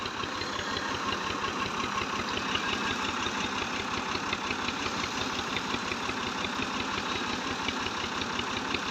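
A Massey 240 tractor engine, set up in Pakistan with a drive tire turning a water pump, runs steadily and loudly with a continuous throbbing, slightly knocking idle that holds at an even pitch throughout.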